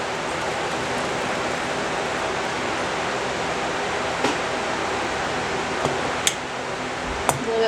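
Boiling water poured steadily into a glass jar packed with dried herbs for an infusion, a continuous rushing, splashing pour with a few sharp clinks of glass, close and alone.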